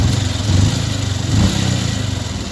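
Honda Revo Fi motorcycle engine idling loudly and unevenly, a steady rough mechanical drone with slight rises in revs, suggesting a noisy cam chain area; no talking.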